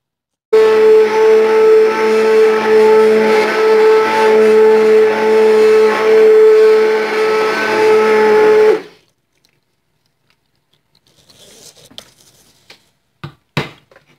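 A blender purees softened roasted tomatoes for canned sauce, a loud steady motor whine running for about eight seconds before cutting off abruptly, followed by quiet clicks and knocks as the jar is handled.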